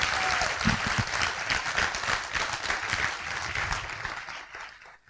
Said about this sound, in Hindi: आप एक बार अपने लिए जबरदस्त तालियां बजा सकते हैं।